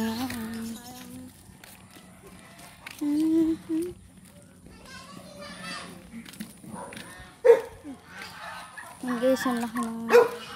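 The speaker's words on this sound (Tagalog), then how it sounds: "Yun yung aso." A dog barks a few times outdoors during a morning walk, the short barks mixed in among several people talking and children's voices.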